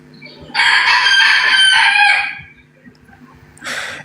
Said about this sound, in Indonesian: Itu ayam nggak bisa di mute